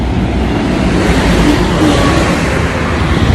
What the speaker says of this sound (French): Vous voyez le bus qui vient de passer là?